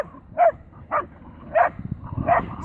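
A terrier barks in short separate bursts, four sharp yips spaced about half a second apart over faint background noise at a dog gathering outdoors.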